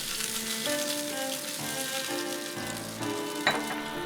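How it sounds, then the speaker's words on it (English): Sauce for Chinese fried chicken with ginger and garlic, stirred in a sizzling pan as it comes to the boil: a continuous loud frying hiss with faint utensil scrapes and one brief clink near the end. "Stir and bring to the boil."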